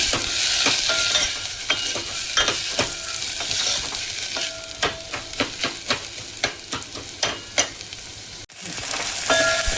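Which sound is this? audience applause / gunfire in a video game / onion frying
onion frying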